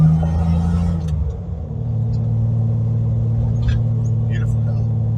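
A rare LC GTR XU1 Bathurst barn find that sat in a shed for 36 years rumbles along while driven, a steady low engine drone from inside the car with a brief dip in revs.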